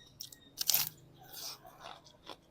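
Close crunching bites and chewing of crisp fried food, a few sharp crackles over about two seconds, with no talking.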